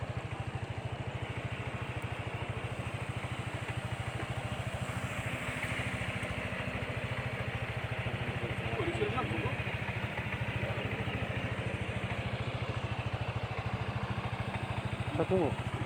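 A motorcycle engine runs steadily at a road-access closure on the Weri–Watuwiti route in East Flores, a continuous low throbbing idle with a constant level throughout, a faint background murmur beneath it.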